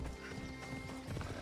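Horse hooves clip-clopping in the video game Assassin's Creed Odyssey as the horse follows the player: faint, quick hoof beats under a low steady game ambience.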